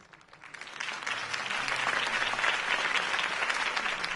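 A crowd applauds after a political campaign speech in a Batman video game, the clapping rising from a soft start into a full, sustained roar of many hands.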